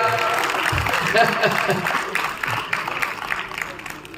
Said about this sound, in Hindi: बजा ताली यार, इतनी बड़ी बात पे यार।